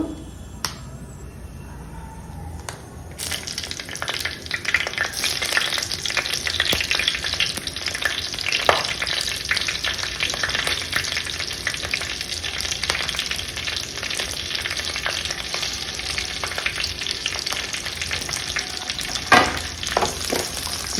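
Green chillies sizzle and crackle in hot oil, a steady close frying hiss with occasional sharp pops and spatters.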